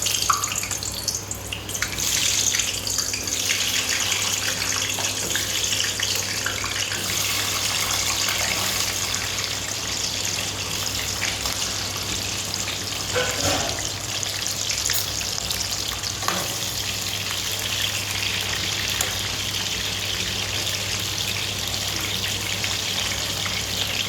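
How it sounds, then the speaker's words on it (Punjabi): Onions sizzle and fry in hot oil in a kadai, a dense, steady hiss that runs unbroken throughout, close and loud, with faint scraping of stirring beneath it and no talking. "ਹੁਣ ਇਹਦੇ ਵਿੱਚ ਅਸੀਂ ਪਿਆਜ਼ ਜਿਹੜੇ ਉਹ ਪਾਉਣ ਜਾ ਰਹੇ ਹਾਂ ਫਰਾਈ ਕਰਨ ਵਾਸਤੇ"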